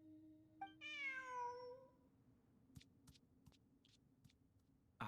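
A cat in the video game Genshin Impact lets out one clear, drawn-out meow, followed by a few faint clicks against a quiet background.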